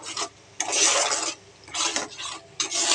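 Spice paste for a Bengali potol posto is stirred and sautéed in a pan with four scraping, sizzling strokes in a steady rhythm, close and fairly loud, no talking.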